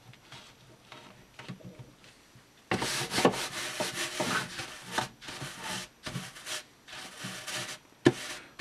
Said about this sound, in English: I'm taking this brush, it's a light bristle brush, I'm just working it in.